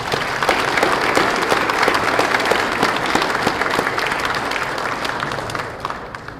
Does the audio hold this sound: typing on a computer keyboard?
no